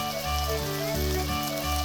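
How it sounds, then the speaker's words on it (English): Sliced mushrooms sizzle steadily in a pot, a dense continuous frying hiss with no pauses, faintly backed by a rhythmic low hum. "Add the sliced mushrooms"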